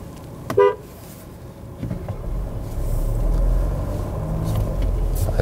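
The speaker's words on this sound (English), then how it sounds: "I usually don't horn people," A Volvo XC60 SUV gives one short horn toot early on, followed by steady road rumble from the moving car.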